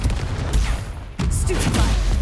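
The Confringo fire spell is cast in Hogwarts Legacy, giving a loud, dense burst of explosive magic effects and crackling combat noise that cuts out briefly and then surges again.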